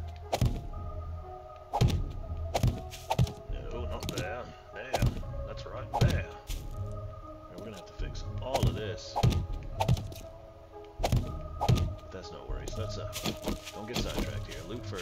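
Repeated blocky thunks and thuds of block repair in the survival game 7 Days to Die, struck at an uneven rhythm every second or so over steady game background, with quiet talk in places.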